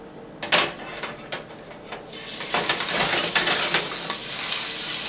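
A red snapper fillet laid into hot grapeseed oil in a nonstick pan, a few sharp pops and clatters, then a loud, steady sizzle close by.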